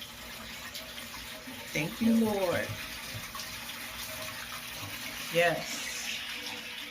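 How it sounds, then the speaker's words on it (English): Water drains from a Hamilton Beach portable washing machine in a steady, soft rushing flow with a few gurgling splashes, while a person briefly speaks over it. "the water is draining right out"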